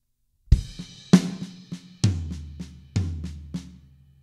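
A drum kit plays a slow fill: five accented crash cymbal strikes from the right hand, each ringing out, with soft snare ghost notes from the left hand tapped between them, close and alone without talk.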